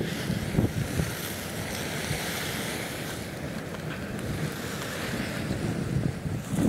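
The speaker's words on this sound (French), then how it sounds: "Là, c'est le geyser de Grotto." Grotto Geyser, a hot spring in a geyser basin, gives a steady broadband rushing roar like surf or wind, continuous and fairly loud throughout with no talking.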